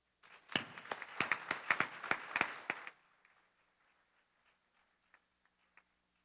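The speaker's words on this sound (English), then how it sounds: "Give yourselves a round of applause." Convention audience at an annual association opening session claps for about three seconds, sharp individual claps standing out from a moderate crowd, then the applause cuts off abruptly into near silence with a few faint knocks.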